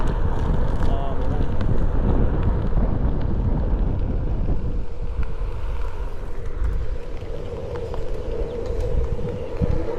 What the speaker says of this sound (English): it is super windy outside already, and I'm riding 15 miles an hour